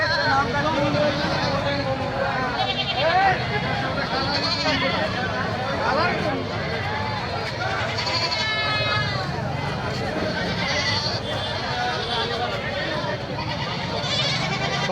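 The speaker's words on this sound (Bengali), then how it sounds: "ঈদুল আজহার ছাগলের হাট" Goats bleat over and over, near and far, at a busy Eid al-Adha goat market in Saturia, Manikganj, with a constant babble of crowd voices underneath.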